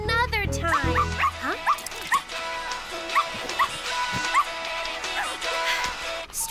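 A cartoon puppy yips, barks and whimpers in short bursts across a busy, steady backdrop that sounds like music, with high cries coming every second or so.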